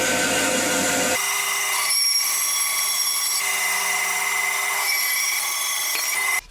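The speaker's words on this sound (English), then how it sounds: "So we're just going to, again on the bandsaw," Bandsaw trimming a deer antler thumbstick topper, a steady high mechanical whine running throughout after a brief rougher cutting burst at the start, then cutting off abruptly at the end.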